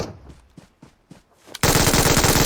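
A machine gun firing in PUBG Mobile, a loud continuous burst of rapid shots that bursts in after a few faint, spaced footstep-like thuds.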